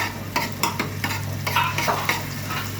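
Garlic frying in oil in a pot, a steady sizzle broken by several scraping stirs of a utensil against the pot, close and fairly loud with no voices.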